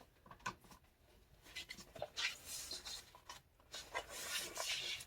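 Scissors snip through journal cover material in a quiet indoor craft setting, giving a few short rasping cuts and rubbing strokes, close and fairly faint, with no talking.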